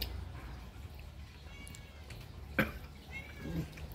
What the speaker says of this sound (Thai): แมวมากวนแม่